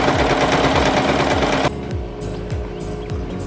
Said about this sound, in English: make sure you back stitch over the elastic a couple times